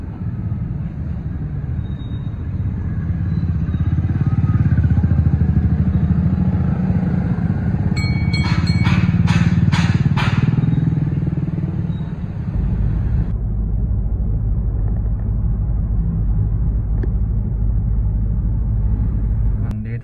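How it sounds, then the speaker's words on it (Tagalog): Road traffic rumbles steadily, with motorcycles and other vehicles passing nearby, a loud continuous drone that swells and fades over about twenty seconds. "Traffic dito, traffic."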